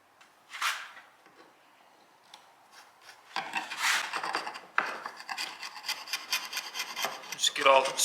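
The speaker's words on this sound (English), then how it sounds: "Just scrape off all this glue that's on here, so my next piece will glue back right." A tool scrapes dried glue off a wooden piece in a woodworking shop, with close, raspy strokes in irregular bursts that begin sparse and faint and grow louder and more frequent.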